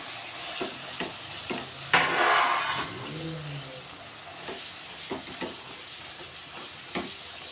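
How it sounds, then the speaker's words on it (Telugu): Chopped tomatoes go into a frying pan for an egg and ridge gourd curry, setting off a loud burst of sizzle and steam followed by softer frying and scattered stirring knocks. "ఒక 2 టమాటాలు అయితే కట్ చేసి పెట్టిన, ఈ టమాటాలు వేసుకుంటున్నాం."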